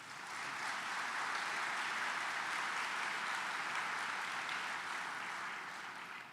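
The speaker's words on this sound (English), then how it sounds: "Please give them a round of applause" A large audience at an awards luncheon gives a steady round of applause, dense and even from start to finish, moderately loud with no voices over it.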